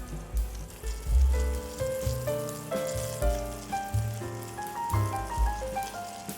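Mushrooms cap side down sizzling in melted butter over a pan coated with olive oil, a soft steady crackle running beneath louder background music.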